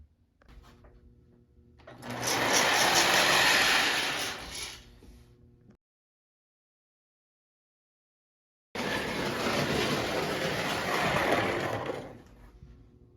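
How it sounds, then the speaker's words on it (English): Die-cast O gauge toy steam locomotive with a mechanical steam-sound device, giving a whirring, chuffing mechanical noise in two bursts separated by a few seconds of silence, close and moderately loud. "this also is equipped with the mechanical sound of steam instead of the mighty sound of steam"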